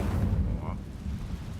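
An Incendio fire spell cast in Hogwarts Legacy, heard as a low, rumbling whoosh with a brief flaring burst partway through, fairly loud and steady.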